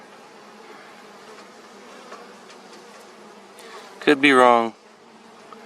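Carniolan and Russian honey bees buzz in a steady, close drone at an apiary, with a brief louder burst as a bee passes near, and a voice speaks briefly over it.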